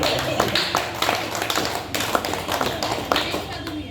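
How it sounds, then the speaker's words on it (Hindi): A small audience breaks into brisk, uneven clapping for a person, a short patter of hand claps in a room, with voices talking alongside it. "हाँ ताली हो जाए"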